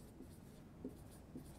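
A pen or pencil writes on paper, circling keywords, with a few soft, close scratches in short strokes over a faint room hiss.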